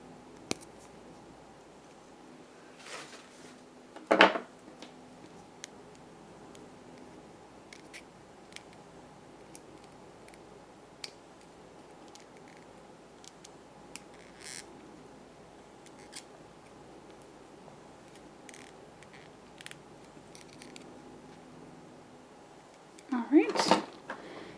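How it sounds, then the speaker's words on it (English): Pliers snipping and pinching down the wire ends of a wire-wrapped cabochon pendant, heard as a couple of sharp, close clicks at the start and end with faint small handling sounds between. "now I'm just going to cut all these little ends off, pinch them down with my pliers"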